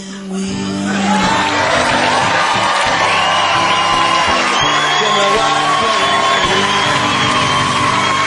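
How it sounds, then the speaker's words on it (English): A large live comedy audience cheers, whoops and yells loudly and continuously, a dense roar of voices filling the room from start to finish. "What a fantastic crowd."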